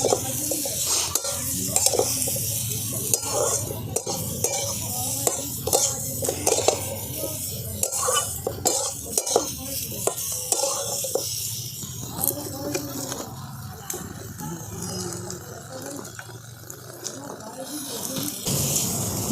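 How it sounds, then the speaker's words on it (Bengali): Cauliflower, potato and papaya fry in a pan with salt and turmeric, a soft sizzle broken by repeated stirring scrapes and utensil knocks, with a voice talking at times over it. "এরপর এটাকে ভালো করে আমি ভেজে নেব, কপি আর আলু আর পেঁপেটাকে।"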